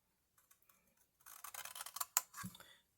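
Scissors snip through the paper flap of a handmade gift bag, a quick run of close, crisp cuts after a few light taps, ending with one sharp click.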